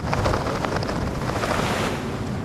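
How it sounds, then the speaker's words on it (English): Strong wind roars steadily across an open microphone at daybreak on a lake near Salt Lake City, with the rush and splash of waves churning underneath throughout. "By daybreak, the wind is howling across Salt Lake City"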